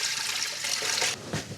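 Water trickles and splashes as eight cups are poured into a pot for a bagel water bath, a steady liquid pour that stops abruptly near the end.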